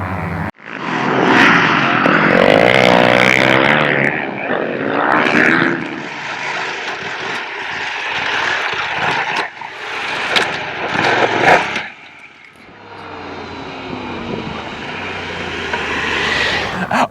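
A KTM 890 R adventure motorcycle roars past while riding, its engine loud and droning throughout before easing to a lower hum and then rising again.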